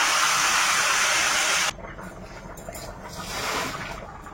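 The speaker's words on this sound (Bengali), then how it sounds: "কুমড়োটা ভাজা হয়ে গেছে, এবার একটু জল দিয়ে দেব।" Loud steady sizzling hiss of frying pumpkin pieces in a hot pan, abruptly cut as water is poured in, leaving a softer bubbling simmer that swells slightly before settling.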